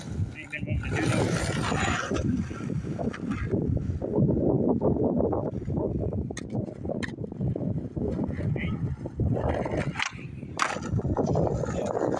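Steady gusty wind blasts across an outdoor skatepark on a cool windy day, a loud continuous low rumble of wind noise on the microphone throughout, with brief faint knocks now and then.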